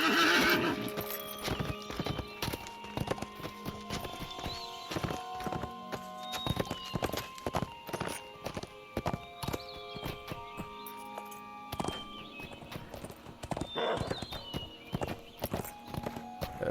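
A steed's hooves clip-clop in a steady, fairly loud rhythm, with whinnies and creaky, tonal sounds layered over the walking, which continues throughout.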